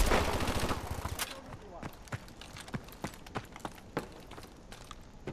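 Rapid automatic gunfire erupts in Call of Duty: Advanced Warfare multiplayer, a dense burst at first, then scattered sharp shots and short volleys through the rest, loud and close.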